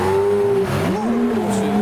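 A Nissan Skyline R34 race car engine drones loud and close, its pitch dropping and shifting as it passes on track, with faint tire noise and no talking.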